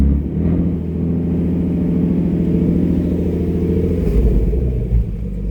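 A 2015 Ford Mustang S550 with a V6 engine, freshly fitted with a V8 flywheel and clutch kit, idles steadily up close with a deep, even rumble and a slight rise in revs near the end.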